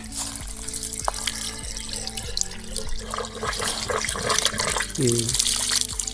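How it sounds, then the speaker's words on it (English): Water pours and splashes steadily into a container, rusty water from a pump, with a low mechanical hum and voices in the background. "We need to pour water in here because otherwise this wouldn't work."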